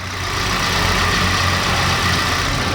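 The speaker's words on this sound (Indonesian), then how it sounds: "Nih, saya dekatkan mic ke mesinnya nih. Kalian bisa dengar suara mesinnya." Idling engine of a 2017 Toyota Avanza G car, recorded up close with a steady, even low hum and mid-range rumble running through the whole stretch without talk.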